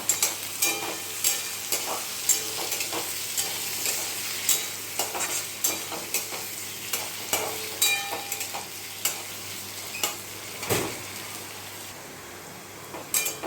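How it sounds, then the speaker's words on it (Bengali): Potatoes frying with onion and chilli in a pan for poha, a steady sizzle broken by repeated scraping stirs, close and fairly loud, with no talking. "আলুগুলো ভেজে নেব।"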